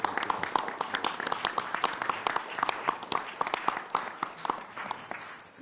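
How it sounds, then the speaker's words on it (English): A room at a New York State budget press conference breaks into steady applause, many hands clapping in a dense, sustained patter that tapers off slightly toward the end. "Let's give them a round of applause."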